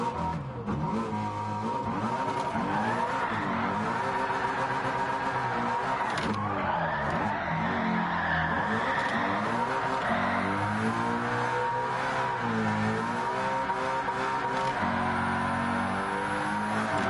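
Cars drift and spin donuts in Gran Turismo, with engines revving and droning continuously and tires squealing in long wavering screeches, loud and close throughout.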